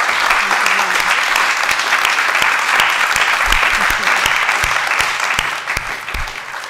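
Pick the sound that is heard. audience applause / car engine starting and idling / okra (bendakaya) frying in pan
audience applause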